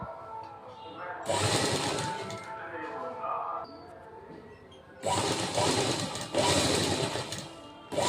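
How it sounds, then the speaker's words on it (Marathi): A sewing machine runs close by in two long stitching bursts along a blouse seam, its steady whirring rising and falling with the pace of the work. Between the bursts a person talks. "आता आपण अगदी सावकाशपणे पूर्ण शिलाई करून घेऊया"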